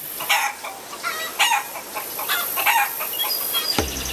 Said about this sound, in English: Clucking to herself as chickens do.